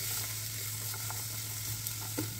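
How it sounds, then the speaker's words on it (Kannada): Potatoes and carrots sizzle steadily in a pan for a mixed vegetable curry, a continuous close frying hiss with a low hum underneath and no talking. "ಅದೇ ಪ್ಯಾನ್ಗೆ ಆಲೂಗಡ್ಡೆ ಮತ್ತು ಕ್ಯಾರೆಟ್ ಹಾಕ್ಕೊಳ್ತಾ ಇದ್ದೀನಿ."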